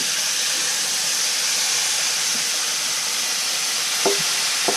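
Bacon frying in a pan gives a steady, loud broadband sizzle throughout, with a couple of sharp grease pops near the end.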